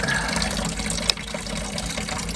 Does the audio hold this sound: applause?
no